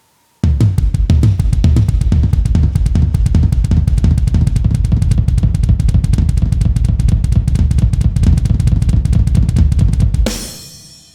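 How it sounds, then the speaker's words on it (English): Drummer plays a fast, continuous linear roll on tom-toms, loud and dense, with rapid strokes alternating between the high and low drums for about ten seconds before stopping and ringing out. "doing the 2 on top with the 2 on the bottom on the tom-toms"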